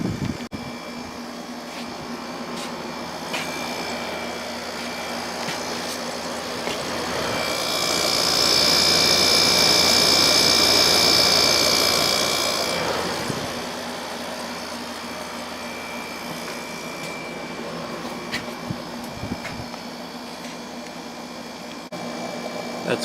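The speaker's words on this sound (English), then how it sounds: "I'm going to turn this heater off and see how long the compressor runs." Samsung 6300 BTU window air conditioner running on low, its compressor and fan giving a steady broadband whir with a tonal hum that swells louder for several seconds midway, then settles back to a constant drone.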